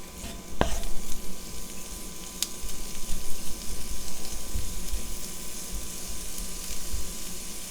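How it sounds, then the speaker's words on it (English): Hearts of palm sauteing in vegan butter in a fry pan for vegan tuna cakes, a continuous close sizzle and crackle with a sharp utensil tap near the start. "And then we're just going to let these saute in the butter, absorb that butter flavor,"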